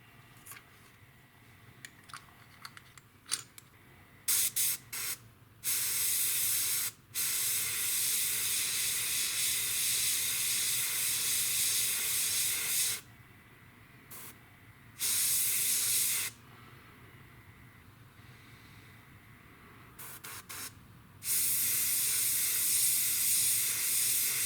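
An airbrush sprays neutral gray PS770 paint for a touch-up on a Tamiya P-47M scale model, giving repeated loud, steady hissing bursts of several seconds each, separated by quieter pauses.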